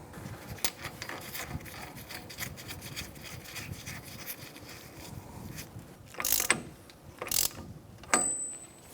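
A ratchet clicks in short bursts while tightening the front axle nut on a 2014-2019 Kia Soul during a wheel bearing replacement. The clicks are faint and close, with a few louder runs of clicking near the end.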